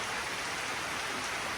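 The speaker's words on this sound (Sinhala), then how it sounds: "වහිනවා" Steady, dense rain falls continuously close by at an outdoor hut, a uniform hiss with no gaps and no voices.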